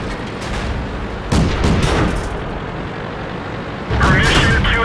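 Tank cannon fire in a video game, heavy booming blasts with a second loud report near the end over a dense rumbling battle backdrop.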